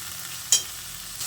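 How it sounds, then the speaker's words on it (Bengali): Egg curry masala with fried onion paste is stirred in a pan, a low steady sizzle marked by one sharp spatula scrape. "পেঁয়াজ বেরেস্তাটা দিয়ে আবারও ভালো করে নেড়ে চেড়ে মশলার সঙ্গে কষিয়ে নিচ্ছি"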